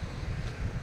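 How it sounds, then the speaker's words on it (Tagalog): Wind gusting at Lusail Glass Bridge in Qatar, a steady low roar of air buffeting the microphone that runs on without a break for under a second, with no voices. "Ang hangin pati."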